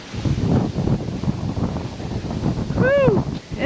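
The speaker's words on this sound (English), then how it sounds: "It is windy out there." Cold winter wind gusts across the homestead, buffeting the microphone in a loud, uneven roar, with a brief whoop of voice near the end.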